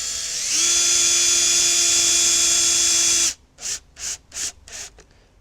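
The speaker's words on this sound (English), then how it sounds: "I'm going to get my cordless screwdriver." A cordless screwdriver drives a screw into wood while building a Vegtrug planter: a steady high whining motor run for about three seconds, then several short bursts as the screw is seated, with no talking.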